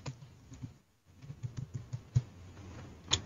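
A name being typed on a computer keyboard during a Microsoft Word lesson: quiet, irregular key clicks close by, with short pauses between bursts over a low background hum.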